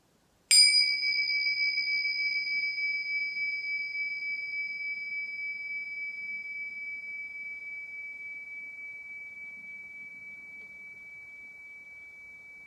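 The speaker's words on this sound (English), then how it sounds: "I'm going to start the meditation and end the meditation with the ringing of a bell" A meditation bell struck once, its clear ringing tone sustaining and slowly fading over many seconds in an otherwise quiet room.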